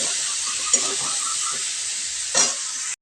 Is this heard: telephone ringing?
no